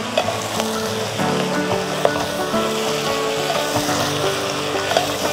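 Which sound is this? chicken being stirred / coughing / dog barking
chicken being stirred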